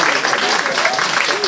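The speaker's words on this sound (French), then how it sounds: "je pense qu'on peut l'applaudir bien fort" At a French employees' day event, a crowd applauds the game winner Romain, a dense, loud, continuous wash of clapping that runs throughout, mixed with cheering voices.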